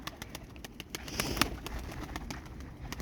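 Domestic pigeons at a loft coo close by in a steady low murmur, with light clicks and a brief flutter of wings partway through.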